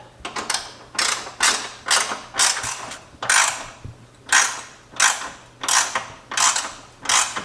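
A hand ratchet runs nuts onto the fender bolts of a 2015 Jeep JK Wrangler during a flat fender install, with repeated rhythmic clicking strokes, about nine rapid ratcheting bursts, close and clear.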